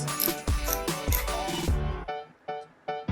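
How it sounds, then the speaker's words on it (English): Film being wound on a Kodak M38 camera, a series of sharp ratcheting clicks from the advance lever, quick mechanical strokes repeated several times close up. "advance the film until it stops"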